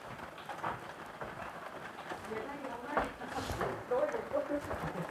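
Rain falls steadily on storm-damaged homes after a flood, a soft constant patter with faint voices mixed in.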